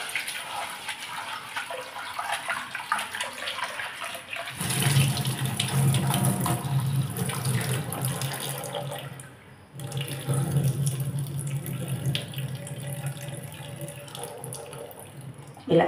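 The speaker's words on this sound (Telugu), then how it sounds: "వాటిని తీసుకొని శుభ్రంగా కడుక్కుంటున్నాను" Flattened rice (poha) is rinsed in a bowl under a running kitchen tap: a continuous splashing rush of water that deepens and fills out as the bowl fills, with no speech.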